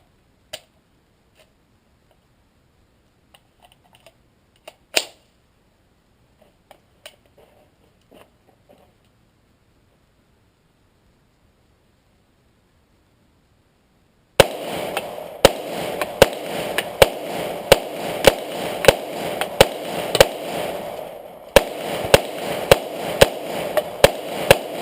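A Taurus CT9 carbine fires 20 rounds from an Uzi magazine in rapid, evenly spaced sharp shots that run without a break for about ten seconds. A few faint clicks and handling noises come before the firing.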